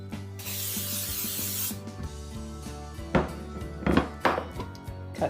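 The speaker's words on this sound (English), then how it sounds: "Spray your pan." A can of cooking spray hisses steadily onto a pan for about a second, close by, followed by clattering kitchen handling sounds, ratcheting clicks and a few thunks.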